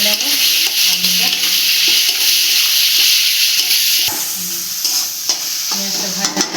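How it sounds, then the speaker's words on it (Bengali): Potatoes frying with onion paste in a pan for a spicy puti fish dish, with a loud continuous sizzle and repeated stirring scrapes close up throughout. "পেঁয়াজ বেটে রেখেছিলাম দিয়ে দেবো। পেঁয়াজটা দিয়ে একটু ভেজে নেব আলুটা।"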